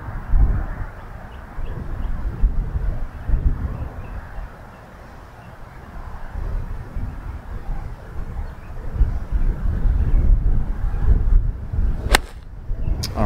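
Wind gusting across a golf course at Sanctuary Ridge GC, a loud continuous low rumble of microphone buffeting that rises and falls, with a couple of sharp clicks near the end.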